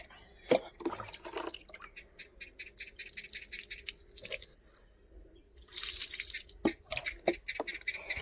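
Running water from a tap used for washing, with splashing, drips and rattling handling noises close by that come in uneven bursts and swell louder partway through.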